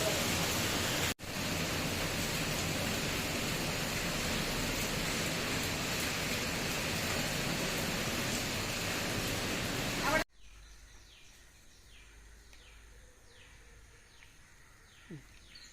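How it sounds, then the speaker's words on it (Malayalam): Rainwater from a traditional Kerala courtyard pours heavily through a large pipe, a loud steady rushing roar that cuts off abruptly, leaving quieter drips and faint birdsong. "നമ്മുടെ നടുമുറ്റത്തിലെ വെള്ളം വന്ന് വീഴുന്നത് ഈ പൈപ്പ് കൂടെ ഇതിലേക്ക് ഫുള്ളായിട്ട് ഇതിൽ വന്ന് വീഴും"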